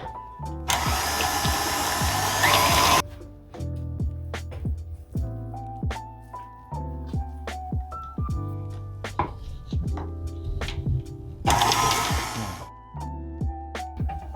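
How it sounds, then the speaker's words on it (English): Egg being mixed into orange five spice cookie dough with an electric mixer, loud whirring bursts at the start and near the end, with scraping, clunking bowl and utensil knocks in between, close by and without speech. "We're gonna put that in and give it a quick mix."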